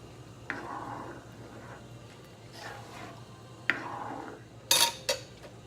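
A spoon scrapes and clinks around a cooking pot of Kapampangan biringhi rice dish, a few soft stirring strokes spaced apart ending in two sharper metallic knocks, fairly quiet with no voices.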